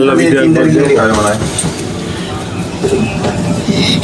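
A train rolls past near a hotel in Eco Park, New Town, Kolkata, its loud rumble and rail clatter strongest at first, then easing while a person speaks over it.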